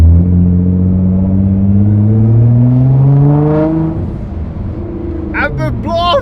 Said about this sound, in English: the blow valves sound freaking awesome